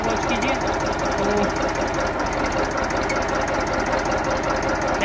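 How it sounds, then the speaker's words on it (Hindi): A Massey Ferguson 1035 DI tractor engine runs steadily up close with a dense, rapid knocking pulse and slight irregular jerks, loud and continuous throughout, with a voice faintly over it. "ट्रैक्टर अभी भी झटका ले रहा है, थोड़ा थोड़ा झटका ले रहा है"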